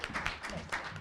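Applause from an audience at a leadership and employment panel event, a brief burst of clapping for the panelists with dense, steady hand claps.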